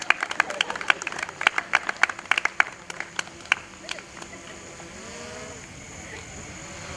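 Guests at a Goan wedding in Betalbatim clap at the cake cutting, a scattered run of sharp individual claps that thins out after about four seconds, leaving quiet murmuring and chatter.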